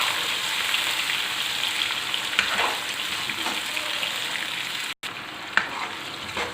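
Sliced tomatoes fry in a pan for a vegetable pulao, giving a steady, fairly loud sizzle with soft stirring scrapes and one brief dropout near the end.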